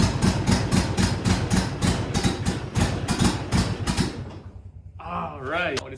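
A lawn mower engine chugs in a fast, even rhythm for about four seconds, then cuts out. A voice follows briefly at the end.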